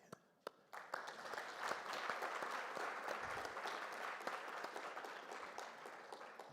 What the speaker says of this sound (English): a big round of applause to all the speakers, to the panelists, for an amazing, amazing event today